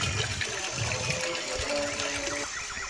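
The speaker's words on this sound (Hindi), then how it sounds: "सीधा पानी नीचे तक जंगल में जा रहा" A steady stream runs from a cow-mouth spout at a jungle temple in Khajuri, spilling straight down into the forest as an even, unbroken rush with faint tonal sounds laced through it.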